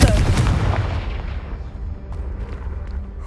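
The Confringo blasting spell goes off in Hogwarts Legacy, a loud close explosion with a heavy boom that rolls into a long rumbling decay and scattered debris.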